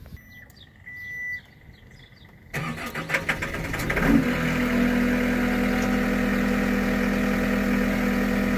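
A John Deere 330G loader sits outdoors with birds chirping; its engine cranks and catches, surges briefly, then settles into a steady, loud, close idle rumble.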